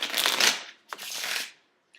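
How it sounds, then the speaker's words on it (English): A deck of playing cards riffle-shuffled twice in quick succession, each a crisp close burst of flicking cards followed by a brief pause. "then you take the deck back and you shuffle it"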